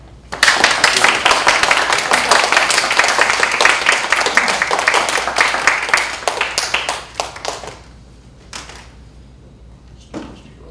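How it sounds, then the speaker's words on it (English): Loud audience applause with dense, sustained clapping for a stage performer at a presence lesson, fading out after about seven seconds, followed by a couple of isolated faint claps and taps. "Applaud."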